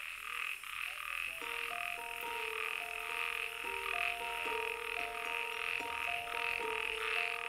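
A chorus of toads croaking steadily, overlapping trilling calls and rhythmic pulses, with a high insect-like hiss running underneath throughout.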